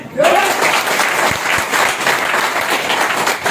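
Crowd at a Hindi-language DXN sales meeting claps loudly after a burst at the start, a dense, even wash of applause that holds for a few seconds without a voice on top.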